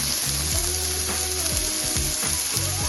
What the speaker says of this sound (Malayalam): ഇതിലേക്ക് സവാള ചേർത്ത് കൊടുക്കാം. സവാള ഒന്ന് ഇളക്കി കൊടുത്തു കഴിഞ്ഞിട്ട് ഇനിയും നമുക്ക് കുറച്ച് ഉപ്പ് ചേർത്ത് കൊടുക്കാം.